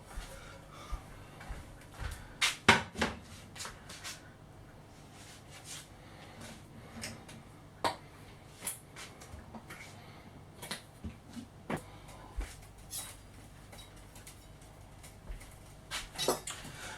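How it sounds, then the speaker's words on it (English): A Tefal frying pan is pulled out of a kitchen cupboard, with scattered clanks, knocks and metallic rattles of cookware being shifted, some sharp and close, spread over a quiet room. "let's get the old trusty frying pan out."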